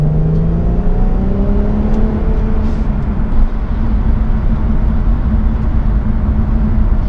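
Steady road and engine drone inside a 2018 Infiniti Q50 Red Sport 400 cruising on a highway, a continuous loud whir with a low hum and some rising tonal engine notes.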